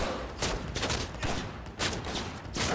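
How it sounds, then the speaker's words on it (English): Rapid bursts of gunfire from a firefight in the video game Cyberpunk 2077, shots clustering in quick volleys with short gaps, loud and close, with no talking. "Something or someone was shooting."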